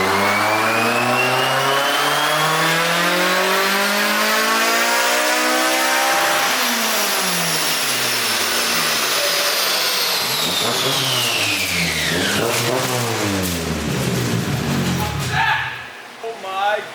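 A K24-engined car screams under load on a dyno, its revs sweeping steadily upward then dropping and surging again, loud and close, with harsh mechanical noise near the end as something fails.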